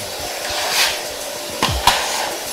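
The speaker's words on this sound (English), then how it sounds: "I want to use this vacuum cleaner. Let's see the power and mostly the sound." A bagless cyclonic 750W Rowenta Compact Power vacuum cleaner runs with a steady airy whoosh, its pitch swelling and dipping a few times as it sweeps, no voices present.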